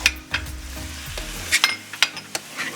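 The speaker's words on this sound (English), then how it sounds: "And start stirring this together." Ground beef seasoned with salt and pepper browns in a pan under a light sizzle, while a utensil scrapes and taps against the pan in several quick, close strokes.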